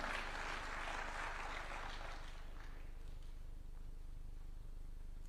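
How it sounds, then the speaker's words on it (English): Audience at a Nairobi university innovation park launch clapping to welcome speakers, dense applause that is loud at first and then fades into a low hum of room noise. "Why don't we welcome them with a clap?"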